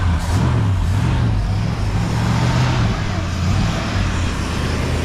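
An abandoned 1964 Ford Fairlane's engine runs loud and close after sitting 29 years, a rough steady rumble with slight revving, and a voice speaks over it.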